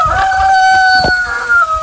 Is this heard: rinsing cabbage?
no